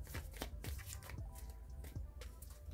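A chakra wisdom card deck is handled and shuffled, with a run of soft, close papery flicks and riffles repeating in quick succession, fairly quiet overall.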